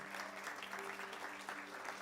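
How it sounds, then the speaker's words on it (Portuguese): A church congregation applauds to welcome a first-time guest, a soft, continuous spread of clapping heard from a distance, with a faint steady tone running beneath it. "Um salve de palmas para Jesus pela vida do nosso irmão"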